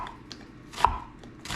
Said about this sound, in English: So we're just gonna cut up this onion